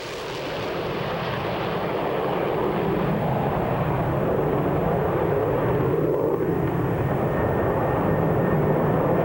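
A jet aircraft roars during a catapult launch from a carrier deck, a continuous loud engine blast building quickly and holding steady, close and without talk.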